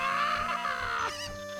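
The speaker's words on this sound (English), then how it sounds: "There's a chicken." A chicken in the video game Ocarina of Time gives a loud, continuous run of clucking and squawking that fills the clip on its own, ending in a brief rising cry.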